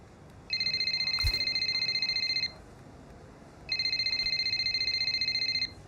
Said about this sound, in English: I'm gonna get a phone call from her now